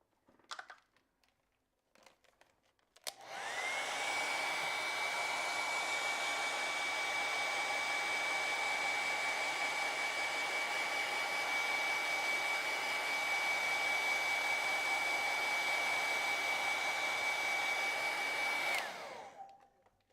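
A hair dryer blows on acrylic paint, switching on after a few faint handling clicks and running as a steady, close whooshing hum with a thin whine for about fifteen seconds before shutting off.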